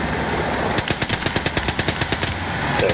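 Machine gun fire from the video game Call To Arms, with a rapid, even burst of a dozen or more shots that sounds somewhat distant and mixed with background battle noise.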